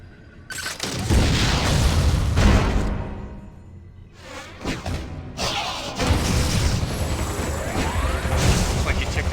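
A missile launches and detonates in the Wii game Metroid Other M, with loud booming blasts and whooshing mechanical rumble in two long bursts, game voices speaking between them.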